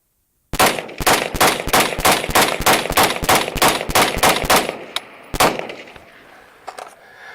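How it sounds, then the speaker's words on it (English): An EMR-1 rifle fitted with a muzzle brake fires a rapid, evenly spaced string of about fourteen sharp shots at a 20-yard range, then two more spaced shots, with echoing tail afterward. "So I want you to see how much this doesn't move when shooting."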